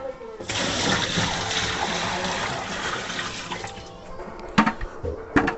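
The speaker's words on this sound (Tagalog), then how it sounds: "Subukan natin kung maganda na yung flow ng tubig" A washing machine drains water after being unclogged, a steady rushing gush that tapers off, followed by a few sharper splashing bursts near the end.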